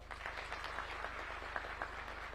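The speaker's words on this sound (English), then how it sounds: "One more round of applause" Steady applause from a graduation audience at the National Defence University in Nakuru County, Kenya, a dense, continuous wash of many hands clapping at even volume throughout, with no voices standing out.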